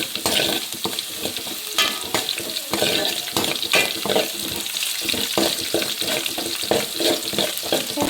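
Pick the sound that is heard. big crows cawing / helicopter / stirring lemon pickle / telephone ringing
stirring lemon pickle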